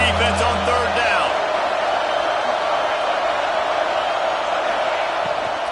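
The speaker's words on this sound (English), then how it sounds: "Decibels rising as the crowd gets behind this defense on third down." A dense roar from a college football stadium crowd at Oregon versus UCLA, swelling behind the defense on third down, steady and loud throughout with a commentator talking over it.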